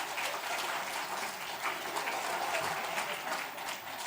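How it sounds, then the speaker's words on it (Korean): A church congregation gives a round of steady applause during a Sunday service, dense hand clapping held at an even, fairly soft level without any talk. "뜨거운 박수로 격려하겠습니다"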